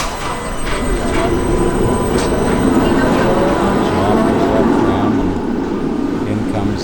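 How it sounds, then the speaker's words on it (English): A tram in Budapest, Hungary rumbles in with a steady low roar and rolling rail noise, loud and close throughout, with a faint squeal near the end. "In comes this train."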